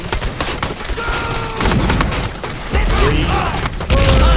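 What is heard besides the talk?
grenade explosions in Medal of Honor video game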